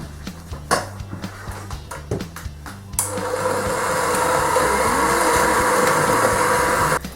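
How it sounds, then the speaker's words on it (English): An electric hand mixer whirs into a steady, loud drone after a few seconds of clattering and knocking, beating butter and sugar for Halloween soul cakes. "now you're ready to get your mixer and mix it all together"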